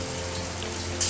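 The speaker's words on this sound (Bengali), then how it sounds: "কত বৃষ্টি হচ্ছে" Heavy rain falls under an overcast sky, a steady, dense hiss of drops that stays even and continuous through the brief moment.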